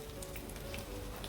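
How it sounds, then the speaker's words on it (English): A soft, steady sizzle of soya chunks sautéing in a pan, with faint crackles and pops throughout. "So we have put our soya chunks into the pan, and now we will saute it"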